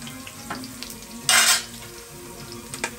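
Garlic sizzles in hot fat for a rougail saucisse, a steady crackle with one loud, bright burst of spitting partway through as the pan flares, then settling back to a low fry.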